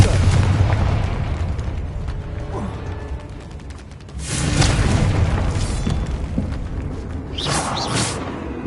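In a Harry Potter video game, a Confringo spell goes off with a rumbling boom and a burst of noise, mixed with mechanical creaks and ratcheting, followed by a second surge of sound.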